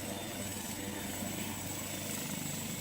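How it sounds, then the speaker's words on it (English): Helicopters of several types land at an aviation trade show, their rotors making a steady, continuous throbbing drone at moderate distance, with no voices. "So these are landing at the trade show, the different types of helicopters."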